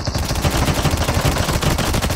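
Rapid automatic gunfire from the mobile shooter COD Mobile, a dense continuous burst of loud close shots with no talk over it.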